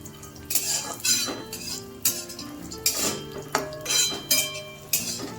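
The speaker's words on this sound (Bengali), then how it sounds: "এবার সবগুলো একসাথে ভেজে নেব একটু।" Cashews and raisins fried together in a pan for payesh, stirred with a metal spoon that scrapes and clinks against the pan in repeated sharp strokes about every half second over a faint sizzle.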